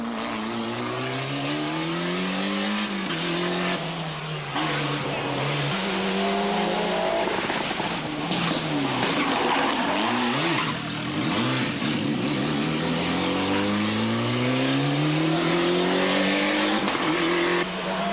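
Rally cars race at the 1996 Croatia Delta Rally, their engines roaring loud and steady for eighteen seconds. The engine pitch rises through gear changes, with passing whooshes and a faint voice in the background.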